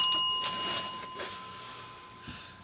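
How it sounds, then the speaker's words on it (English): A single small bell rings once at a military collectibles shop, a bright ding whose clear tone lingers and fades over a couple of seconds in a quiet room. "Ring the bell."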